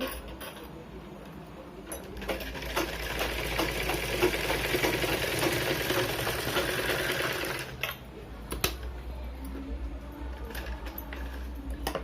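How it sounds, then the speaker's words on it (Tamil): A sewing machine stitches a blouse seam with a steady, close mechanical whirring that runs almost the whole time, briefly pausing and restarting with a thump. "வச்சுக்கிட்டு ஒரு அரை இன்ச்சுக்கு தையல் போடுங்க"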